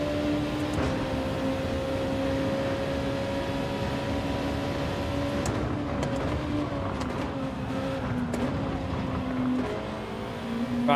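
Race car engines in Gran Turismo 7 drone steadily at high revs during a daily online race, with the pitch dipping briefly at gear changes and another car running close alongside.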